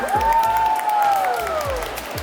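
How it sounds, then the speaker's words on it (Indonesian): Clapping and crowd noise at an MC school presentation, mixed with a prominent long gliding whistle-like tone that rises and falls over the short burst of applause. "Boleh beri tepuk tangan?"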